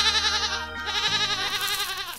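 A family of goats in a fenced grassy area bleats in long, loud, wavering calls that overlap and continue without a break, close and clear with no speech.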